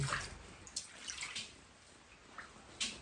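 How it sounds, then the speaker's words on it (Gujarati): Rainwater leaking from a roof and dripping into a pot set beneath it during heavy rain: faint, irregular splashy drips over a soft wash of water noise, quiet and close. "આ જે પાણી ટપક એ સીધું ઢીકડામાં પડશે"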